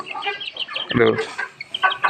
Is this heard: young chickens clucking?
yes